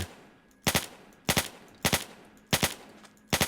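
Pistol gunfire in a Minecraft lucky-block battle: five sharp shots, each a quick double crack, spaced about half a second to a second apart, loud and close with no talk.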